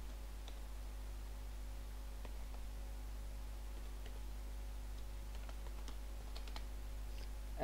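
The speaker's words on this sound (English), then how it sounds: "And I'll need to type the password in once again." A password is typed on a computer keyboard, giving a few scattered, quiet key taps over a steady low electrical hum.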